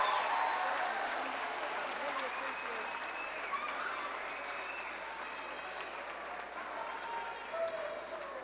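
A high school graduation crowd applauds, a steady, dense wash of clapping that carries on evenly throughout.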